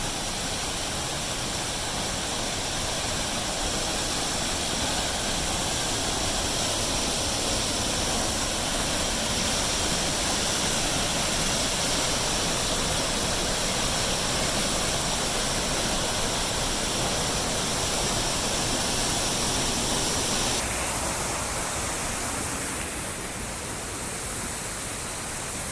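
Panther Creek Falls in Carson, Washington roars steadily, dense unbroken rushing water, loud and constant throughout with a slight shift in tone near the end.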